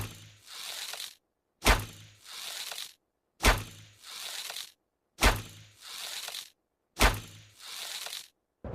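Crossbow gun firing in the video game Free Fire: five evenly spaced sharp cracking shots, each followed by a brief hissing tail and then silence, loud and close with nothing else heard.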